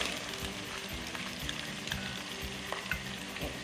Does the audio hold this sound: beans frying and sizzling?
yes